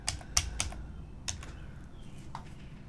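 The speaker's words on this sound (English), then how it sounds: "in the search panel over here we're going to type in" Short burst of computer keyboard typing as a plugin name is entered in a search field, quiet and close, a handful of quick keystrokes up front then a few scattered taps, no talk.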